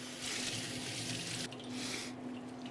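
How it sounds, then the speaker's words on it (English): Cold tap water runs steadily into a sink as a brined chicken is rinsed, a continuous close hiss whose tone shifts partway through as the bird is moved under the stream. "in cold water, just rinse it off"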